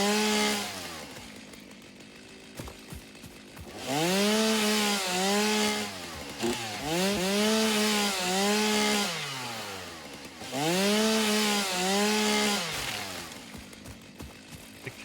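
A chainsaw felling trees in the video game Satisfactory: three loud revving bursts with rising and falling engine pitch, separated by quieter idling stretches, with no talk over it.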